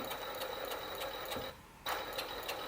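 Overlock serger machine trimming and stitching a fabric edge, a steady fast mechanical whir with rhythmic ticking that pauses briefly near the middle and then resumes at the same close, even level.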